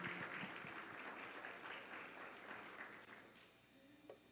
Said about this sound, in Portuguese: Dê um aplauso ao nosso Deus.